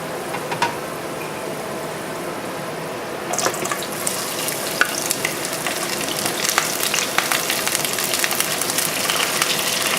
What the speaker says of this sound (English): And everything will saute 1, 2, 3.